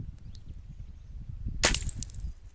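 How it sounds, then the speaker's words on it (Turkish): A single sharp crack from a Hatsan Mod 125 air rifle firing at a glass bottle outdoors, one loud near shot standing out over a steady low rumble of background noise. "Şişenin dibini vuruyorum"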